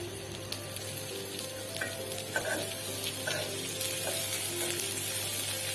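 Mustard oil sizzles steadily in a frying pan, a continuous close crackle with faint clinks of a utensil and no talking, heating before green chilies, onion and hilsa fish go in.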